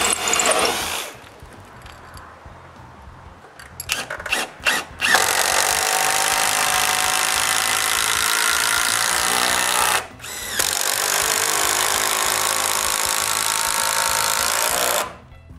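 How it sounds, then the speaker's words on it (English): Power drill driving 6-inch screws into a wooden door frame, with two long, loud, steady whirring runs broken by a short pause and a few brief bursts before them, alone without talk. "To secure the frame to the post, I screw a 6-inch screw in front of each inch."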